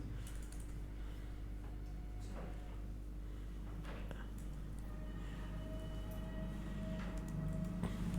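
Typing on a computer keyboard while entering database records for a PHP and MySQL food-ordering project, a steady run of soft key clicks over a constant low hum throughout.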